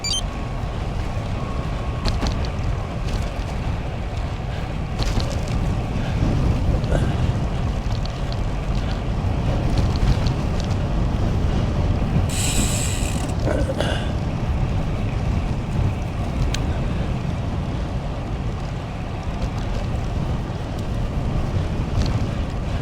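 Headwind roars against a moving cyclist, a steady, loud, broadband rush of wind buffeting close to the microphone for over twenty seconds, with a few brief clicks and rattles.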